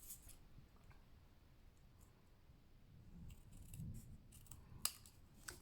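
Scissors snip papercraft pieces for a Christmas pyramid decoration, with quiet, close cuts and a few sharper clicks near the end in an otherwise hushed room.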